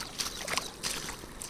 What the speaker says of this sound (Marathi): मित्रांनो हे बघा, पाणी नुसतं वाहतंय पाणी.